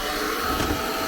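A hairdryer blows into wet boots, giving a loud, steady, close whooshing roar that barely changes over its short span.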